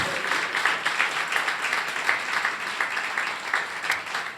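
A church congregation gives a strong round of applause, a sustained rippling clatter of many hands, fairly near and even in level throughout.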